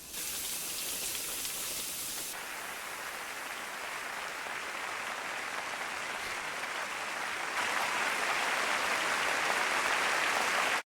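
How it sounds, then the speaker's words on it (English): Steady, dense applause-like hiss in a Jujutsu Kaisen anime scene, with a rain-to-applause sound transition, continuous and moderately loud with a slight swell near the end, no talk. "It turned from the rain to the applause"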